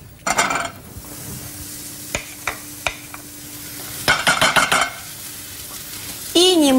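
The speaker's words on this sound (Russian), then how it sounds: "Сливочное масло вместе с яблоком на сковороду." Apple pieces and butter go into a frying pan, giving a steady sizzle with bursts of stirring scrapes and a few sharp utensil clicks, closing on a louder hiss.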